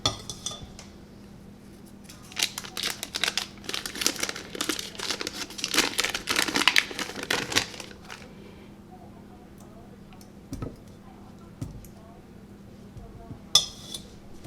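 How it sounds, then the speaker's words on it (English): A stick of butter is chunked up with a utensil in a sauce pot while making caramel for puff corn, giving a dense run of close crinkling, scraping and clinking, then a few isolated taps. "I'm just going to chunk it up a little bit"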